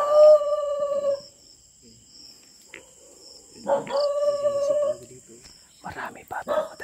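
A dog howls in two long drawn-out wails separated by a quiet pause, with barking and rustling near the end and a faint insect hum throughout.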